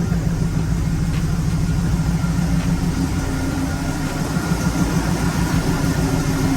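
A G-Body car's engine idles steadily and fairly loud at close range, a constant low rumble with the A/C compressor about to kick on; no one speaks.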